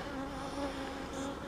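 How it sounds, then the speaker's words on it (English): Honeybees swarm around a hive, a dense, steady close-up buzz of many wings droning continuously without pause. "I squished a bee."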